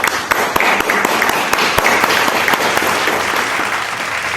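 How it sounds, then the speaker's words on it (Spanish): Loud, warm applause from an audience at a family history book presentation, dense clapping with sharper individual claps popping out, sustained for several seconds. "para quien pido un fuerte y caluroso aplauso."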